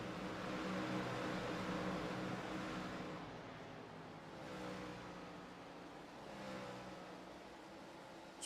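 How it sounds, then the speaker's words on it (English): A Red Bull-powered race car in a sim racing game at Iowa Speedway gives a steady, fairly quiet engine drone, rising and falling slightly as it runs, with no talk over it. "That Red Bull-powered race car making some noise."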